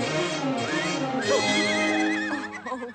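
A horse in the animated film Cinderella (1950) lets out a long, loud whinny that wavers up and down for several seconds, with faint clip-clop and background sound beneath it.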